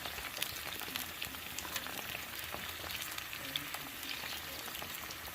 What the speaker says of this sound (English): I'm gonna let that simmer down and extract all of the oil out of the aloe vera